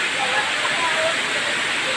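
Twin Falls waterfall pouring steadily over rocks, a continuous broadband rush of falling water that stays loud and even throughout with no breaks.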